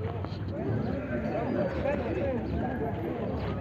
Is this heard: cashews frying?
no